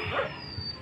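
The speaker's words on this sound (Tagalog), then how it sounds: "galit na galit sa akin yung aso" A dog at a storm-damaged house barks angrily, a single short yip-like bark heard at a moderate distance over outdoor background noise.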